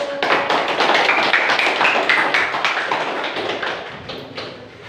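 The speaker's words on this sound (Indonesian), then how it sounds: "Tepuk tangan dulu" Dense applause from a school class fills the room, many hands clapping together at a steady level before thinning slightly at the end, with no talking over it.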